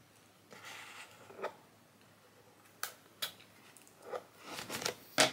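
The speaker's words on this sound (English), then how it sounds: "That would have been a lot easier than these scissors." Scissors cut through cardboard packaging in a few scattered crisp snips and crunches, some louder than others, in a quiet room without talk.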